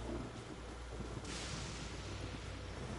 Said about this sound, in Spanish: como está lloviendo todos los días, todo el día, a cada hora, a cada minuto